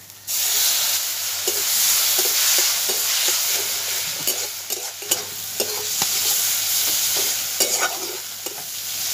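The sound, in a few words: spice paste with tomato being stirred and fried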